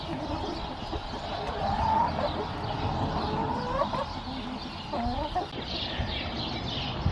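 Chickens cluck and murmur steadily outdoors in a farmyard setting, several birds close by with overlapping calls and no talk.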